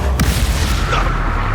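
A loud, heavy Bombarda blasting spell explosion from Hogwarts Legacy booms with a sharp onset and a rumbling low body that stays strong and sustained through the moment.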